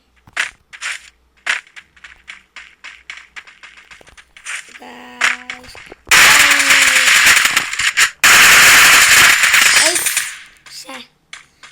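Gunfire in a shooting video game: sharp single shots crack in an irregular rhythm, followed by loud sustained bursts of rapid fire and crunching impacts, with a few quieter clicks between.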